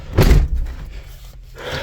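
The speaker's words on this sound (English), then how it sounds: "let me close the door" A 1991 Pontiac Firebird built as a Knight Rider KITT car has its door shut with a single heavy, close thud, followed by a low rumble of handling noise.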